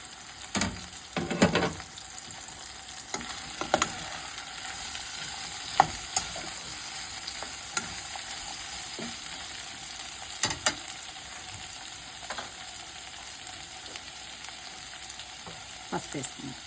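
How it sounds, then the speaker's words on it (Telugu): Capsicum fries in a pan for a long stretch with a continuous crackling sizzle, while a spatula gives occasional scraping stirs and knocks against the pan; close and no one speaks. "వేయించాలండి. క్యాప్సికమ్ వేసేసి"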